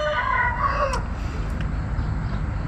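A rooster kept in a cage crows once near the start, a short, loud call, followed by a steady background hum with no talking.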